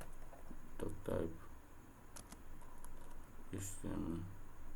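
Keyboard typing in short bursts of clicks, moderately near, with quiet gaps between clusters and a faint room background.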